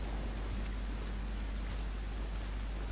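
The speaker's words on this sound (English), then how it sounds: "I hear rain. It keeps on intensifying." Steady rain in the NiOh action game, a dense, even hiss of downpour with a low rumble underneath, constant and fairly loud with no talk over it.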